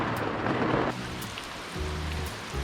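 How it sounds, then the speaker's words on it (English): Heavy rain pours down around a motorhome parked in a remote spot, a dense steady roar that dips slightly partway through, with a low rumbling hum surfacing near the end. "It sounds like the skies have emptied."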